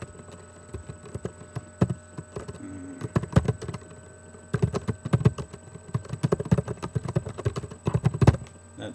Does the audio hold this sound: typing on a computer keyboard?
yes